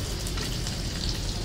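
Chopped onion sizzles in hot oil for batata bhaji, a dense, even crackling hiss that fills the short moment close up, with no voices.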